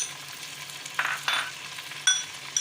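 Chicken fries in a pan for chicken dal, a quiet, steady sizzle with a few soft spoon scrapes and clinks from stirring.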